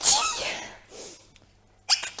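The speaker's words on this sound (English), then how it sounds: "that's your real sneeze" A person on a podcast lets out a sharp, high-pitched, squeaky sneeze, loud and close at the start, then fading, with a second brief burst near the end.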